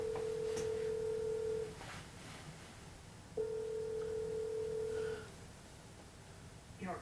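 A telephone call rings out through the earpiece before going to voicemail, heard as two long, steady ringback tones separated by a pause, faint and slightly muffled over background hiss.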